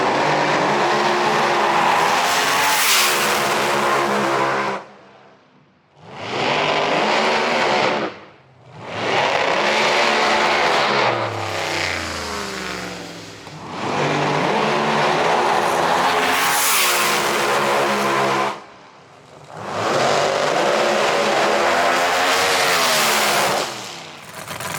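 A race car heard from onboard, driven hard with the engine screaming at high revs through long pulls. Sharp lifts and gear changes break the roar into loud, close bursts.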